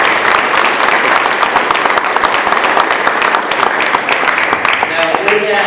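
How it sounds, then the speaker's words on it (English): An audience applauds the speakers at a school board meeting with education specialists in New Hampshire, giving a loud, dense, sustained round of clapping that continues evenly throughout, with a voice briefly audible near the end. "can we give them one more round of applause?"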